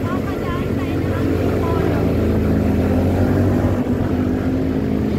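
A Lance 150 motorcycle climbs a steep hill road in Antipolo, Rizal, its engine loud and straining in a steady rumble, with a rider's voice speaking over it and strong wind buffeting the microphone.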